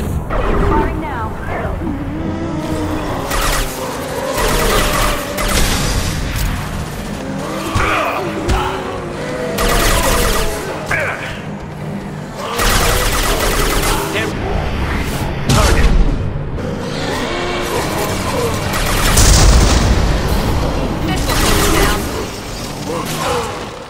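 Weapons fire and explosions from the video game Mass Effect 2 come in repeated bursts of booms and sharp mechanical clatter, loud and close, with voices talking over parts of the action.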